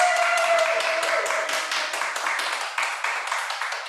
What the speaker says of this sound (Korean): 성서적으로 바라본 MBTI 두 번째 시간을 우리 큰 박수로 시작하겠습니다